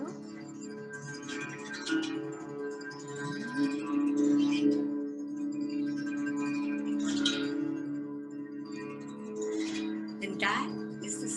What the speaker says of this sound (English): And that is the sound of the monochord.